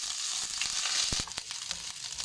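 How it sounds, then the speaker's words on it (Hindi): Ginger-garlic paste frying in hot cooking oil, heard as a steady broad sizzle with a few sharper crackles and spits, close up and with no voices. "ऑयल हमारा अच्छी तरह गर्म हो चुका है। इसके अंदर अदरक लहसुन का पेस्ट ऐड करेंगे।"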